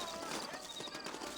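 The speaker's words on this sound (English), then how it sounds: "You ain't gonna find sturdier horses than these in all of New Austin" Horse hooves clip-clopping in a Western-frontier setting in Red Dead Redemption, a steady patter of steps under a busy wash of ambient town noise, with faint talk in the background.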